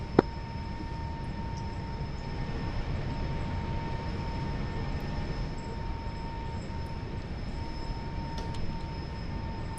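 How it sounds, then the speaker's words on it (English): Steady roar of an F-14 jet taking off from runway 30 in the DCS flight simulator, a continuous broadband engine rush with a faint whine, constant and alone. "Taking off runway 30."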